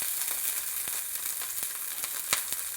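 Onions sizzling in hot tempering oil for a chickpea rasam, a steady close crackle with occasional sharper pops as they fry, no voices.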